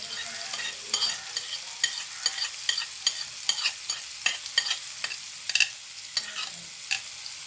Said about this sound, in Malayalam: ഇത് ഞാനിപ്പോൾ ഒരു പാൻ വെച്ചിരിക്കുന്ന അതിലേക്ക് ഇട്ട് കൊടുക്കും കേട്ടോ